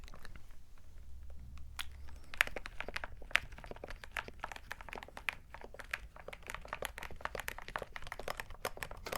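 Steady clicking of keys on a computer keyboard, fairly quiet and close, in an irregular rapid rhythm with no talking.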